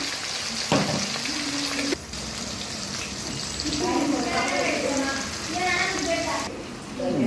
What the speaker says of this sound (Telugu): పన్నీర్ ముక్కల్ని ఆయిల్లో డీప్ ఫ్రై చేసుకోవాలి.